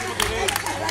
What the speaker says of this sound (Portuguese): Uma salva de palmas para a Maria Alice.